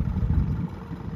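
Johnson 6 HP outboard motor, freshly fitted with a carburetor kit, idling with a steady low rumble heard up close for a moment.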